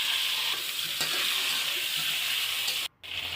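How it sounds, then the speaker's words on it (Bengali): Pointed gourd (potol) pieces coated in turmeric and salt frying in hot oil in a kadai, a steady close sizzle running throughout with a brief dropout near the end. "তেলটা গরম হলে আমি হালকা করে পটলগুলো ভেজে নেব।"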